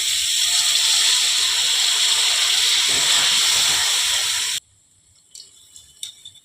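Water is poured into a hot pan of Bengali mourola fish curry with potato and eggplant, bursting into a loud, steady hiss of sizzling steam that cuts off abruptly, followed by a few faint clinks.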